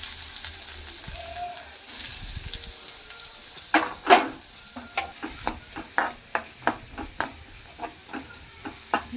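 Finely chopped onions frying in hot oil with mustard seeds and cumin give a soft sizzle, then a loud splash of hissing followed by a rhythmic series of spatula scrapes and taps.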